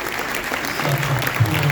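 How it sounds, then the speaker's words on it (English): Brief burst of audience applause at an E.T. The Extra-Terrestrial fan panel, a full, steady patter with a voice talking over it. "all of us just need to give you guys a big round of applause"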